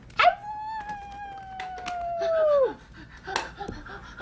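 A person imitates a wolf howl with one long drawn-out falling wail lasting about two seconds, close and fairly loud, followed by brief voice sounds and shuffling.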